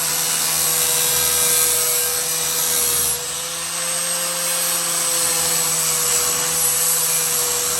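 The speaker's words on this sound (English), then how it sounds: "we're gonna pick this back up and kind of just buff the edge off" A power tool buffs the edge of a replacement roof panel on a rusty 1967 first-generation Pontiac Firebird. It makes a loud, steady whirring drone that dips briefly and then carries on evenly.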